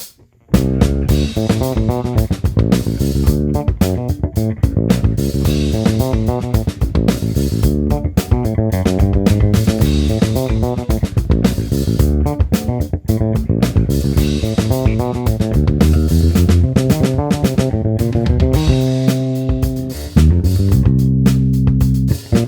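A bass guitar plays the chorus riff of a funk tune in a dense, steady run of syncopated notes, loud and continuous with no talking.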